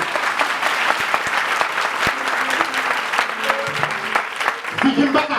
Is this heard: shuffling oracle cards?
no